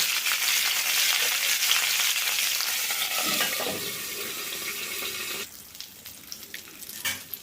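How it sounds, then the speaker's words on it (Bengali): Pointed gourd pieces fry in a little oil in a covered pan, giving a steady, close sizzle that softens and thins out near the end, with a few faint clinks. No one speaks. "পটলগুলো এপিট ওপিট করে আমি একটু লালচে করে ভেজে নিয়েছি"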